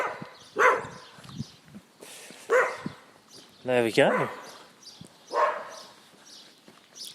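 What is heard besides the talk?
two dogs barking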